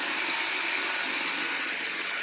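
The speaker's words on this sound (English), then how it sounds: "you probably cannot hear me when I talk when I have the vacuum on" A Dyson vacuum cleaner runs at max suction with a steady, loud, high-pitched whine and rushing airflow, unbroken and close, with no talk over it.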